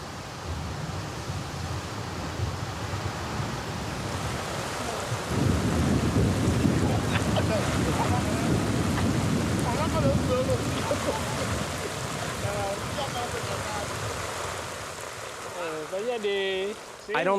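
A tropical thunderstorm in the rainy season on the Bissagos Islands, West Africa: steady heavy rain hisses throughout, swelling into a louder rumbling downpour midway, with thunder rolling underneath.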